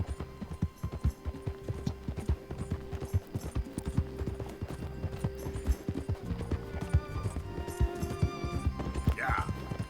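Rapid, rhythmic clip-clop of galloping horse hooves in the video game Red Dead Redemption 2, played in VR mode, pounding steadily and close with a brief whinny near the end.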